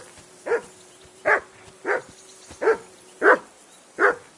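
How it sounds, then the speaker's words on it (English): A dog barks six times in a steady, evenly spaced series, close and clear, in the medieval role-playing game Kingdom Come Deliverance 2, with no talk over it. "Jesus, Henry, that barking's driving me nuts! Can you get your dog to shut its beak"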